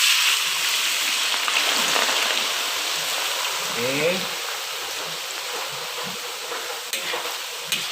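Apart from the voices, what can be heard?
potatoes frying in hot oil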